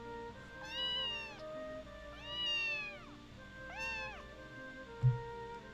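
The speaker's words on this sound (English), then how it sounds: "The stray kept its distance but looked up at me with a surprisingly affectionate meow" A stray cat in a video game meows three times in drawn-out, rising-and-falling calls spaced about a second and a half apart, close and clear, followed by a brief soft thump.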